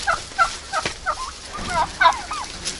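Young turkeys gobble repeatedly nearby in a farmyard, a run of rapid warbling calls in quick succession with no talking.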